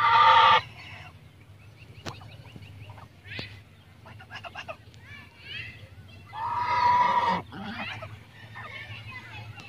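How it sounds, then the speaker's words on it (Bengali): Royal ducks (raja hans) honk and call in loud bursts at the start and again midway, with softer calls in between against a low background hum. "এটা হচ্ছে রাজা হাঁস, দেখেন কত সুন্দর লাগছে হাঁসগুলা"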